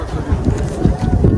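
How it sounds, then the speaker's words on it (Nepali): Strong wind blows across an open hillside spot during a Holi outing, buffeting the microphone with a loud, close, steady low rumble that swells in gusts for about a second and a half. "कस्तो दामी हावा चल्दो रहेछ नि त"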